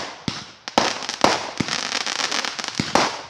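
Loud Canada Day fireworks going off close by, a rapid string of sharp bangs and crackling bursts, some overlapping, with no talking.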